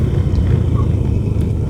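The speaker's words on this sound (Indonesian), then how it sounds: "Banyak mobil juga lewat sini ternyata." A car rolls past on a rough, uneven dirt road in the hills, with a steady low engine rumble held close and loud throughout, with no break.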